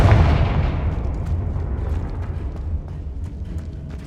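A booming blast from the Confringo fire spell in Hogwarts Legacy, one heavy low explosion at the start that rumbles and slowly fades over several seconds, loud and alone.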